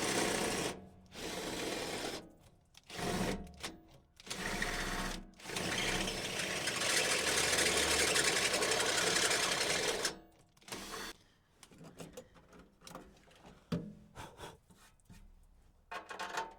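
A power drill with a step bit widens a pilot hole in metal on a 1971 Datsun 240Z being stripped down, cutting in several bursts of grinding whine with quiet pauses between them.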